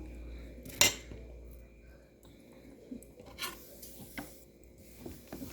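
A small onion is cut up without a cutting board, producing faint, irregular knife scrapes and taps with one sharp clink, quiet and close.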